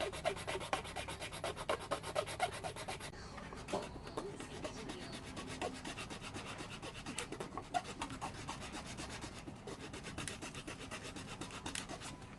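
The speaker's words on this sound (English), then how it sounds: "maybe I should file it a little bit" Steady rasping strokes of a hand file working a model car fender, close and continuous with a scratchy, rubbing texture and no voices.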